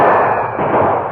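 Gunfire in a radio western drama as outlaws are caught between two groups of shooters: a dense, continuous crackle of shots and reports fills the moment, loud and close, with no voices.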